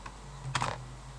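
Brief burst of computer keyboard typing, a couple of quick clustered keystrokes close up, with no talking.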